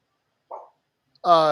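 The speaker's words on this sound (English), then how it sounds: "You got barking." A dog gives a short, muffled yip and then a louder, sustained bark close by, both in otherwise quiet indoor surroundings during an online conversation.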